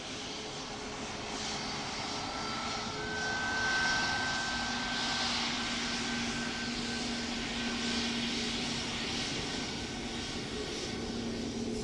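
A Ryanair jet airliner at Dublin Airport, heard as a steady broadband engine roar from a moderate distance that swells slightly around the middle and holds throughout, with no talking.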